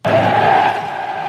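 Fluminense supporters singing in a packed stadium, a brief loud burst of massed crowd voices, sustained and roaring for just over a second.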